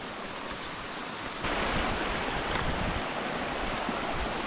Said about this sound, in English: There's just so much water coming down this thing.